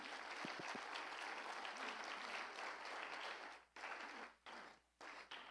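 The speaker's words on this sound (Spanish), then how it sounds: "Dale un fuerte aplauso al Señor Jesús." Church congregation applauding: a dense, steady burst of many hands clapping that fills the room, then drops off in uneven bursts toward the end.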